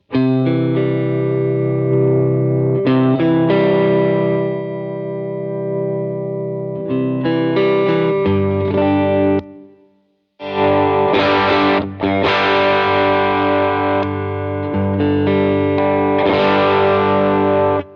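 Electric guitar chords ringing through heavy effects, distorted and shimmering with echo, played loud in sustained bursts with a brief silent gap partway through.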